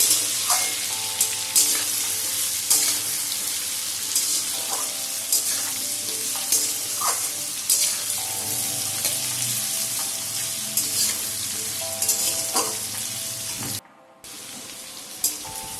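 Potatoes and papaya fry in a pan for a papaya-potato curry, giving a steady, close sizzle with scattered spatula scrapes and clicks and a brief dropout near the end.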